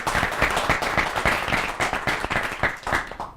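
An audience breaks into steady applause after a speaker is introduced at a lecture, with dense, close clapping filling the whole stretch and no talk.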